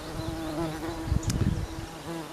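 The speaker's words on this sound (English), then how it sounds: "beautiful wee bee." A bee buzzes close by in a watered summer garden, a steady droning hum that swells louder for a moment as it passes near, then settles back, heard alone without talk.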